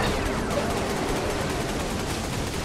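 Dense, steady weapon fire and explosions fill a busy battle in the Ratchet and Clank All 4 One video game, a loud continuous wash of shots with no clear gaps between them.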